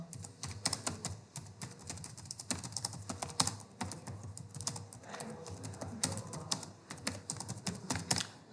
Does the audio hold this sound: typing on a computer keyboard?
yes